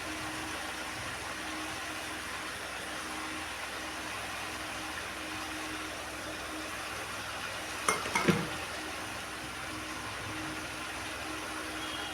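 Cabbage and peas fry in a pan with a steady, even sizzle, joined by a brief clatter of stirring near the middle and no talk.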